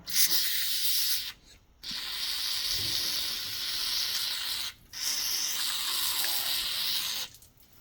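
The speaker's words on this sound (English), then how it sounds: "I'm gonna go ahead and douse some penetrating oil in there" Three long, close hissing bursts from a spray can of penetrating oil on a Suzuki 230, separated by brief pauses.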